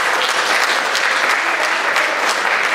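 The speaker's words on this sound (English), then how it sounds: "Give them a round of applause." A school awards day crowd at Greenwood High gives a round of applause for staff, loud, close and uniform clapping that holds steady for nearly three seconds without voices over it.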